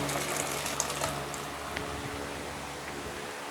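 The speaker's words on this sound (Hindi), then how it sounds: "इसको अब हम बॉईल होते पानी में डाल देंगे" Water splashes and gushes steadily as chana dal lentils are poured into a pot of boiling water, with a low bubbling rumble underneath and a few clinks near the start.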